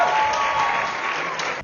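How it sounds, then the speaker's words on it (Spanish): Applause ripples from a live audience at a podcast event, a dense, even burst of many hands clapping that carries on briefly and then cuts off abruptly. "Fuerte el aplauso, por favor."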